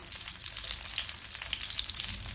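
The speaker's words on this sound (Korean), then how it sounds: "팬에 고추전을 올려주세요" Egg-coated stuffed green pepper pancakes (gochujeon) fry gently in a pan over low heat, a soft, steady crackling sizzle with fine popping, heard alone and fairly quiet.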